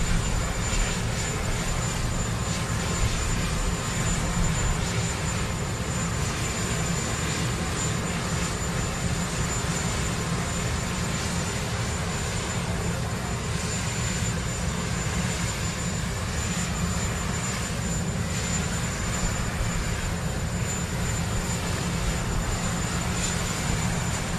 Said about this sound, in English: That's the helicopter that's picking up Biden